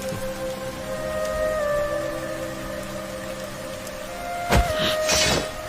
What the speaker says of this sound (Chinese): 竹林天降大雨